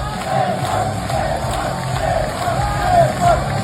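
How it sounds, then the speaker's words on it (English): Boxing crowd at a fight event roars and yells for a fighter, a dense, sustained wall of cheering with swelling whoops and bellows rising near the end. "Just listen to the crowd."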